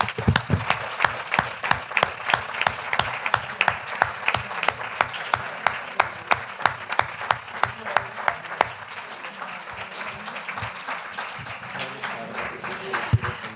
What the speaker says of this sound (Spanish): Os pediría un aplauso para ella.